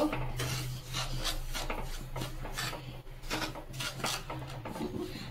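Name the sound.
stirring semolina in a pan for sweets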